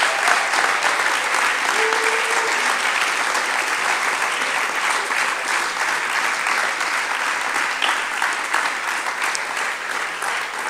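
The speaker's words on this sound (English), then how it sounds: "I think they all deserve a huge applause" Audience applause at a university international day celebration, steady dense clapping from a large crowd sustained evenly for about ten seconds with no break.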